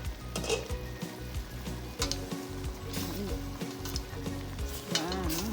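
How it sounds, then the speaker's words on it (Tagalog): Continuous bubbling and sizzling from a boiling pot of Kapampangan pork asado on the stove, with occasional scraping as a spoon stirs through the contents. "Kumukulo na po siya, haluin natin."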